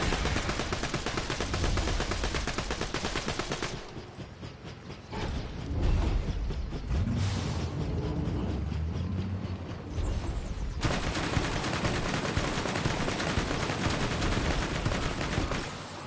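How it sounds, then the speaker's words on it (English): Rapid bursts of pistol gunfire from Borderlands 2, loud and dense, with a mechanical rattle and whooshing effects as the shots trade back and forth against a swamp drifter enemy. "Let's see if I can get him with this pistol and see what happens."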